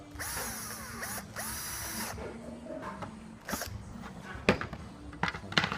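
A power drill bores extra holes into the base of a trimmer jig for cutting ovals and circles, two long whining bursts up front, then quieter workshop clatter and faint clicks.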